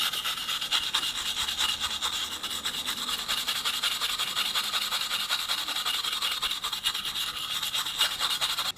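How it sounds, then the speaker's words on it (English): Quick back-and-forth scrubbing strokes rasp against the rusty metal of a 1949 Indian Scout motorcycle horn, a close, continuous brushing scratch in a steady rhythm. "I'll give this a quick scrub and get all this rust and detritus off."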